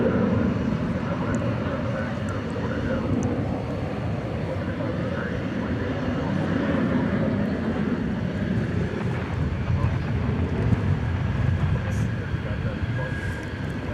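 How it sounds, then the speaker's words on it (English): An Airbus A320 bound for Mexico City at DFW Airport at night gives off a steady, broad jet-engine roar that holds at an even loudness throughout. "it's an Airbus A320 going to"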